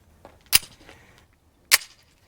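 A Browning Hi-Power pistol fires two light-struck rounds, two sharp, loud reports about a second apart, each with a short decay into quiet.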